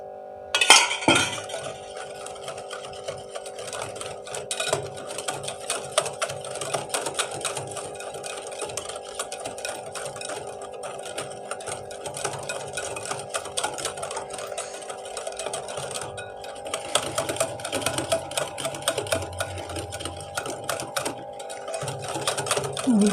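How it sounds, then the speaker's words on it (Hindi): Instant coffee and sugar beaten by hand with a spoon in a cup, a steady rapid clinking and scraping that runs nonstop, fairly close and moderately loud. "तकरीबन इसको 10 मिनट लगते हैं बीट करते हुए हाथ से"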